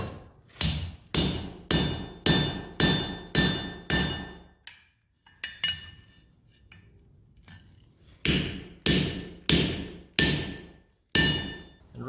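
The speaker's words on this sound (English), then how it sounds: "a round punch, which I'll knock through one side, then I'll turn it over and push it through the other side through the Pritchel hole on the anvil" A hammer drives a round punch through hot iron over the pritchel hole of an anvil: about seven sharp, ringing blows in steady rhythm, a quieter pause with light knocks, then five more close, loud strikes.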